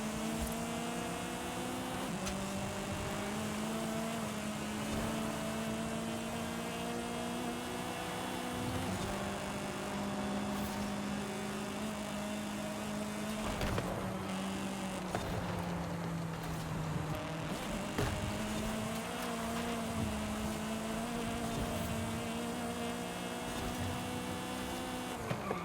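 A Mazda MX-5 engine in the Forza Horizon 5 racing game, a continuous droning hum that rises and falls through repeated shifts, steady and fairly loud throughout with no talking.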